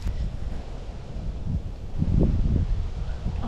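Gusty wind blows outdoors while fishing for flathead along weed edges, a low, rumbling buffet across the microphone that swells louder in the second half.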